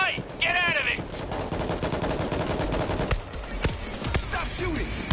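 Rapid bursts of automatic gunfire crackle loudly and densely in World War Z, with a few shouted voices breaking in at the start and near the end.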